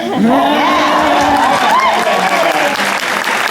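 An audience at a Comic Con panel in Philadelphia claps and cheers loudly throughout, dense and steady, while a voice speaks over the noise.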